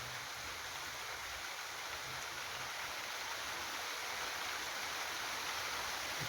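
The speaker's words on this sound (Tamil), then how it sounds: "மழை பெய்யுது." Steady rain falls without pause, a soft, even hiss that stays at the same low level throughout, with no voices.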